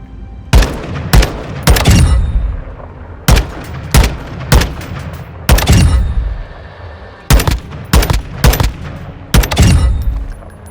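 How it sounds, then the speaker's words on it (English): Assault rifle tap-fired on full auto in Modern Warfare 2: short, loud bursts of two to three shots repeated in uneven groups, each crack ringing out briefly before the next. "So I'm going to try to tap fire on full auto."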